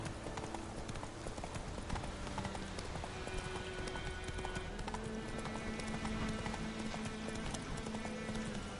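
Roach, a horse in The Witcher 3, clip-clops along at a steady trotting rhythm, the hoofbeats repeating throughout over a dense game soundscape of ambient noise and music.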